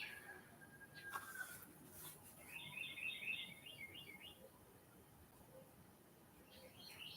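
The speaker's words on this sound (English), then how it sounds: "And the birds are starting to talk again." Small birds chirp in short bursts of tweets on a porch in the morning, faint and somewhat distant over a steady outdoor background hiss.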